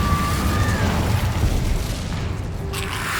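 An Incendio fire spell cast in Hogwarts Legacy gives a loud, continuous fiery whoosh and boom that fills the whole moment, with steady rumbling noise and no gaps.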